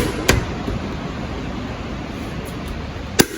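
Carbon-fibre-style M3 mirror caps snap onto a car's mirror clips, giving two sharp, close clicks about three seconds apart over steady background hiss.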